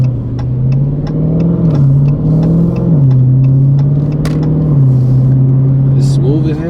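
A Dodge Charger engine holds a steady, loud low rumble with gentle rises in pitch as it accelerates, its exhaust burbling underneath throughout, with people talking over it.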